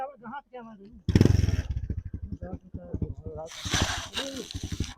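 A motorcycle engine revs up close in throbbing bursts, with people talking over and between the engine noise.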